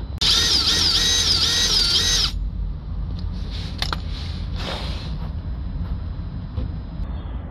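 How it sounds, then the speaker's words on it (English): A power drill bores out a seized exhaust gas temperature sensor on a Ford Transit van, whining loud and steady with a pulsing rhythm for about two seconds before stopping, leaving faint rattles and workshop clatter. "that's the old one drilled out and the new one put in"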